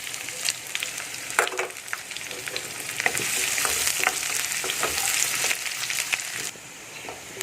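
Chopped onions frying in a pan, a steady close sizzle with intermittent stirring scrapes, loud and continuous throughout.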